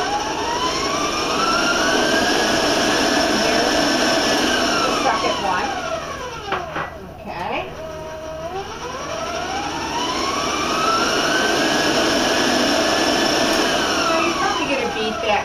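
An electric mixer whirs loudly and steadily as it beats eggs one at a time into peach skillet cake batter. The pitch sweeps up and down, dips briefly midway, then climbs again, with a voice talking over it.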